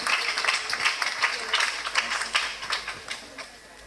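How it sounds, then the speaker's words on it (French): Applause at a school inauguration ceremony at a Haitian evangelical college, a steady patter of many hands clapping at moderate distance, lasting throughout and tapering slightly at the end. "Applaudis Sterling Boss ce jour, le président de la promotion Impact."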